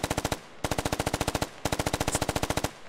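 Automatic gunfire in a tactical shooter video game comes in three rapid bursts of evenly spaced shots, each burst cut off by a short pause, loud and alone with no talking.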